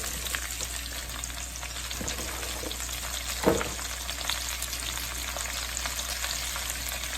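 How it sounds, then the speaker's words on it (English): Squash and onions frying in a pan give a steady, close sizzle and hiss throughout, with a brief stirring scrape midway. "we're gonna add squash and onions into that"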